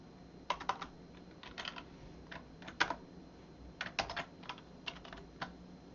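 Computer keyboard keys pressed to enter a Ctrl+Shift+M shortcut while coding in R: close, crisp clicks arriving in short irregular bursts with brief pauses, no voices.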